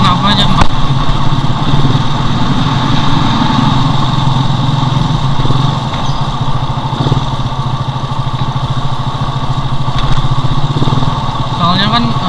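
A motorcycle engine runs steadily and close by throughout, with a constant low drone and some rattling, while a voice talks over it.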